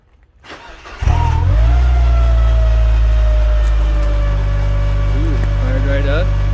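A 1999 Mazda Miata convertible engine cranks briefly and catches on a cold start, then settles into a loud, steady idle close to the exhaust, humming evenly with a faint whine on top.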